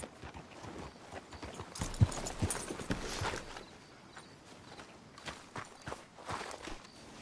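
Horse hooves clip-clopping at a walking pace in Red Dead Redemption 2, a steady rhythmic clatter of hoofbeats with a few louder strikes, set against faint ambient noise.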